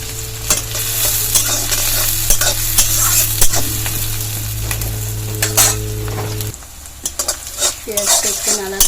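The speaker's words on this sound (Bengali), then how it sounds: "পেঁয়াজটা একটু মোটামুটি লাল লাল করে ভাজা হয়ে গেলে কেটে রাখা আলুগুলো দিয়ে দেব।" Sliced onions and cut potatoes with garlic sizzle steadily in hot oil in a pan while a spatula scrapes and stirs, loud and close; the hiss drops off partway and rhythmic stirring knocks continue.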